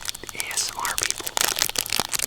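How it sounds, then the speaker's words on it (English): Plastic wrapping crinkles and tears up close in short, irregular crackly bursts, with a voice murmuring over it. "ASMR plastic sounds."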